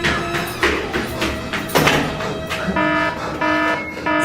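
A building fire alarm system sounds loud and close, with repeated electronic buzzing tones and pulsing beeps that shift pattern partway through, alone without talk.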